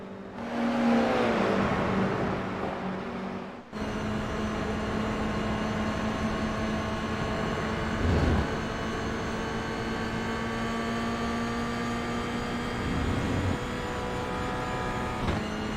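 A Toyota GR86 in a racing sim, its engine droning at a steady high pitch while held in fourth gear up a hill, sustained and even with slight pitch shifts.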